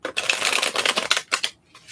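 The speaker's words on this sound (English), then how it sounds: "just let them wait there while I shuffle the cards" Tarot cards are riffled and shuffled in quick, close, crisp bursts, a rapid papery flutter followed by a couple of separate snaps before a pause, in a quiet, intimate setting.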